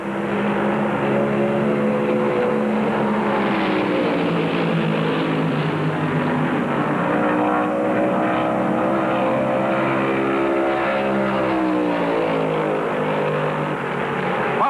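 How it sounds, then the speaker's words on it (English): Stock cars racing at Darlington Raceway in the 1971 Southern 500, including a Mercury, give a loud continuous engine roar that rises and falls as they pass, steady throughout with no talk. "Bobby Allison's Mercury is pulling away."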